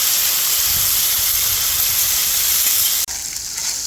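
Food sizzles loudly and steadily on a 36-inch Blackstone griddle while fried rice and a chicken stir fry cook outdoors, a dense continuous hiss that drops briefly near the end, then carries on.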